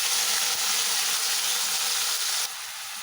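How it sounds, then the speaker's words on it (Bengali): Turmeric- and salt-coated shrimp frying in hot mustard oil in a kadai, a steady close hiss and sizzle with no break, dropping slightly in level near the end. "কড়াইয়ের তেলটা গরম হয়ে গেলে নুন হলুদ দিয়ে মাখিয়ে রাখা চিংড়ি মাছগুলো হালকাভাবে ভেজে তুলে নেব।"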